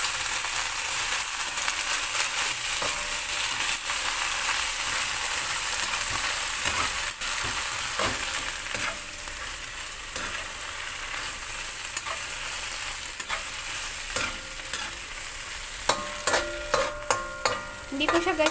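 Sardines and alugbati (Malabar spinach) are sautéed in a pan, with continuous sizzling frying and a utensil scraping and stirring through the leaves. Clinks and scrapes grow sharper near the end, and no one speaks.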